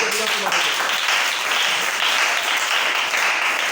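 Church congregation applauding during an Easter service, a dense, steady wash of clapping from many hands that fills the room evenly from start to end.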